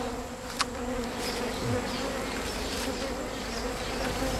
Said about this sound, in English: These guys are putting their hands into an unsmoked bee's nest and pulling out honey.